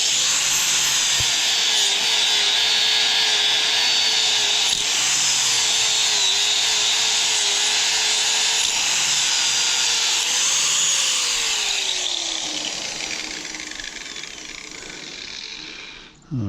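A power tool cleans off a weld on steel with a loud, steady, high-pitched grinding whine that holds for about twelve seconds, then winds down and fades.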